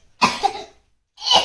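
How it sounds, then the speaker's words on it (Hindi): A child coughs twice, close to the microphone, the two dry barks separated by a short silence. "अभी भी खांसी है"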